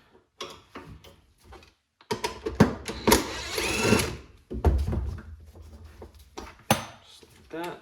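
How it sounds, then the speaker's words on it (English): Box wrench working the 15 mm nuts on a Jeep Cherokee XJ rear leaf spring, giving close metallic ratcheting clicks and clinks in uneven bursts, with a scraping stretch in between. "Got a box wrench."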